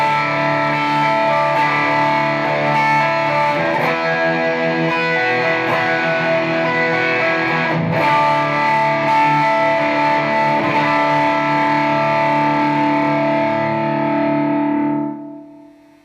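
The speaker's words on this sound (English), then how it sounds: "with the gain totally cranked, you can still hear the individual notes even with complex chords." An electric guitar runs through a TC Electronic Darkmatter distortion pedal with the gain fully up, strumming sustained, heavily driven chords that ring out steadily before fading at the end.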